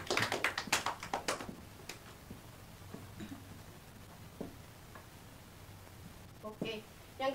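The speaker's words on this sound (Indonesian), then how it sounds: "Tepuk tepuk tangan." Classroom applause during a microteaching session, a brief flurry of close hand claps at the start that quickly fades into quiet room noise, followed by a few scattered taps and a voice.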